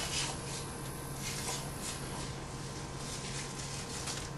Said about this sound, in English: I just take a piece of paper towel and I grab a hold of it, and you can usually hear it and feel it start to peel.